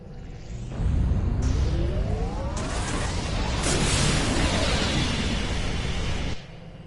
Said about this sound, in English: If I overload those conduits, I'm sure it'll make a big explosion.